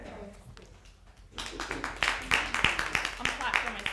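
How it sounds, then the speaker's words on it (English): A single person claps their hands at a town hall listening session on rent stabilization, quiet at first, then a run of sharp, close claps for the last two and a half seconds. "I'm clapping for myself."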